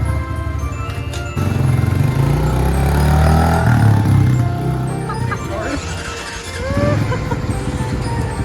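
A Honda CRF 110 dirt bike engine runs at a steady, fairly loud idle that rises in a mid-clip rev and then settles back down, with people talking over it.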